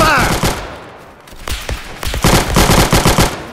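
Rapid bursts of gunfire in a shooter video game, the M2 carbine among the weapons, crackle loudly in clustered volleys, pausing briefly midway before resuming in dense repeated shots.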